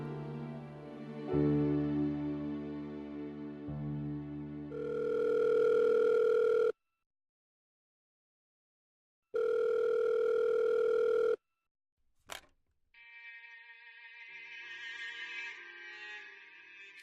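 Steady telephone line tones heard alone while a call waits to connect on a Korean gospel hotline: two long sustained tones separated by silence, followed by a brief click and a softer patterned tone.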